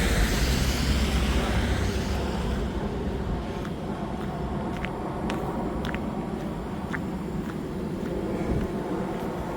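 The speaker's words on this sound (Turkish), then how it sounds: "Böyle uçaklar falan geçiyor." Airplanes passing overhead before dawn on a cold, snowy morning: a steady, heavy broadband rumble that fills the whole stretch without a break, strongest at the start.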